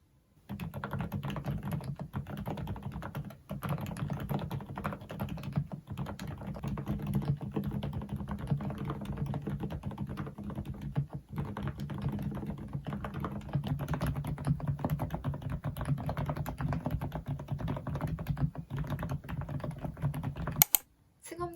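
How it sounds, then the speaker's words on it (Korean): Continuous muffled typing on a keyboard with silent mechanical switches, soft dense clacks in a fast steady rhythm, close up, with no talking. "이 키보드도 타건 소리 먼저 들려드리도록 하겠습니다."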